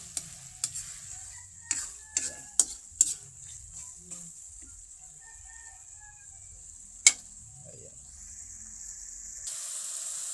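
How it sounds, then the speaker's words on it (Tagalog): Shrimp paste (alamang) being stirred in a pan as it simmers, with a handful of sharp scraping clicks against a quiet, low bubbling background and faint background noise throughout. "Halo-haloy ng konti para hindi dumikit."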